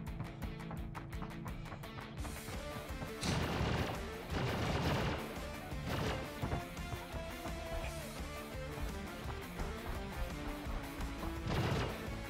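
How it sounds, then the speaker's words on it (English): Ship-mounted laser cannons in Star Citizen blasting near a bunker, a run of loud sharp shots and impacts spread across the moment over a steady rumbling game background. "there's these laser cannons that are shooting at me"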